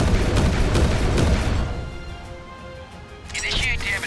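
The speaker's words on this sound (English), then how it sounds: "Missile silo, fire." A submarine-launched missile fires from the USS Ohio in the naval game Warships Mobile 2, a dense, heavy roaring blast that fades before a brighter hiss swells near the end.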